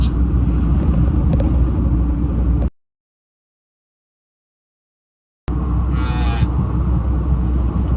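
A heavy goods vehicle cruising along a UK motorway toward the M6 toll road, its steady low engine rumble and road roar filling the cab; the sound cuts out completely for about three seconds midway, then resumes just as loud.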